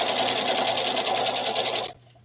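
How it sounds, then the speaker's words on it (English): A home sewing machine stitches a quilt seam in a rapid, even run of mechanical clatter, loud and close, before stopping abruptly near the end and leaving quiet room tone. "my sewing machine because this doesn't have the noise cancellation on it"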